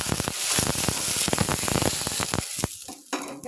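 Home-grown mustard seeds spluttering and popping in hot oil in a home kitchen, a dense, loud burst of crackles over steady sizzle that thins out toward the end.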